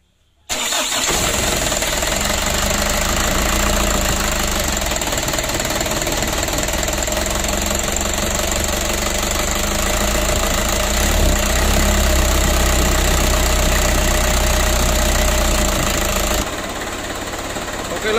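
A Ragasa PS 120 engine runs steadily and loudly after starting, a dense rough drone close by that holds for the whole stretch with a slight change near the end.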